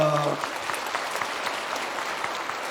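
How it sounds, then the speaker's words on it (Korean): A church congregation claps for women in hanbok bowing at a Sunday Easter service, a dense, steady wash of applause that stays loud throughout, with a brief spoken tone at the very start. "인사할 때 큰 박수로 격려해 주십시오"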